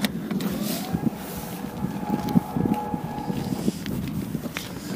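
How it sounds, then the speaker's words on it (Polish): The electric trunk lid of a 2011 BMW F10 528i xDrive closes under power, a steady whirring motor hum lasting a few seconds with soft clicks and handling noises nearby, ending as the lid settles. "ma pokrywę bagażnika elektrycznie otwieraną, zamykaną"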